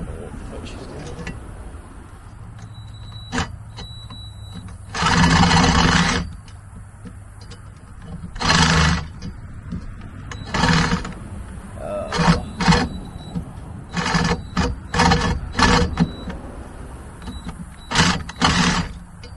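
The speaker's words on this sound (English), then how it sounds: "The Sawzall does not want to cut this." A battery-powered Sawzall reciprocating saw struggles to cut through metal on a gong target stand, loud harsh bursts of cutting come in several short runs with pauses between, and people talk between the cuts.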